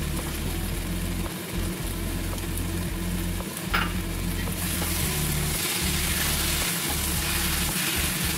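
Prawns coated in turmeric, salt and masala fry in a pan with a steady, loud sizzle, broken by repeated scraping as they are stirred; no one speaks.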